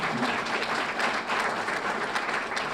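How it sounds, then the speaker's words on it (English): A crowd at a university student-athlete graduation celebration claps in a full, steady round of applause that holds evenly throughout, with no voices over it. "Give them a round of applause."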